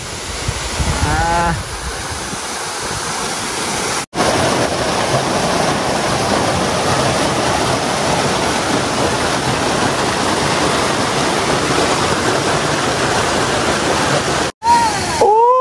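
Hisetsu Falls, a small waterfall pouring down at the side into a pool, roars as steady broadband water noise close by for nearly the whole stretch, with brief speech at the start and a short break near the end.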